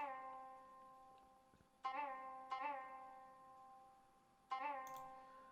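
Plucked koto notes from the Prince Koto Kaguya 13 plugin, three bright twangy attacks with long ringing decays and a bending pitch, quiet and close with no other sounds.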